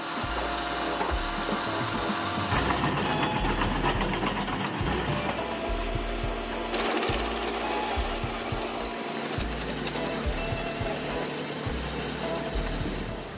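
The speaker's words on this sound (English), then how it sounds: "In Australia, even though the winter weather is very harsh, this wood chipper still works strong and durable for a long time." A wood chipper machine runs steadily while chopping wood, its engine drone mixed with continuous grinding, rasping and cracking as timber is fed through, loud and sustained throughout with no voices.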